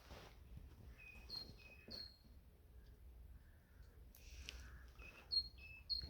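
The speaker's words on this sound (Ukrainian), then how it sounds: "Пташки співають." Faint, scattered bird chirps and short whistled calls over a quiet outdoor background, a few calls more noticeable toward the end.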